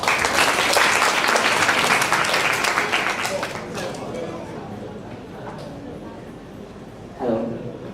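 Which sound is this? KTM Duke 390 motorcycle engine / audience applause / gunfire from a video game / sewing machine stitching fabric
audience applause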